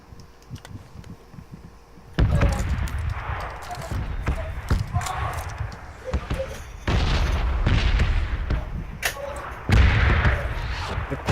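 Gunshots in PUBG Battlegrounds, a few sharp, loud booming shots and thuds among game noise, with someone talking over parts of it.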